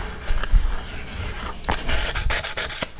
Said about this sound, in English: higher grits, that's when the polishing really comes in.